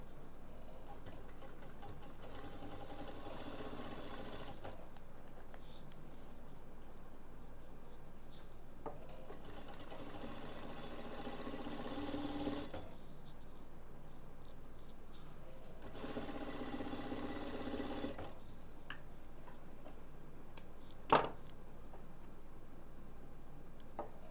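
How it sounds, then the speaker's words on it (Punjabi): A sewing machine stitching the center seam of a palazzo runs in three separate bursts of steady, rapid whirring and clattering, with quiet pauses between them and a single sharp click near the end. "ਇਹਦੇ ਸੈਂਟਰ ਦੇ ਵਿੱਚ ਆਪਾਂ ਸਿਲਾਈ ਲਾਵਾਂਗੇ"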